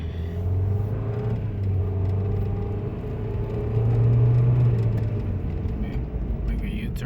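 A car recently repaired for a VTEC fault (code P1259) and EGR flow problem drives along, its low engine rumble and road noise steady from inside the cabin and rising briefly midway as it accelerates.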